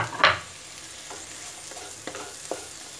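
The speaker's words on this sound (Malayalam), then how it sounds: "ഇനി ഇതിങ്ങനെ ഇട്ടിട്ട് നന്നായിട്ട് അവിടെ ഫ്രൈ ചെയ്തെടുക്കുക" Chopped onion and ivy gourd frying with curry leaves in a pan, a soft steady sizzle broken by a few clinks and scrapes of stirring, close and fairly quiet.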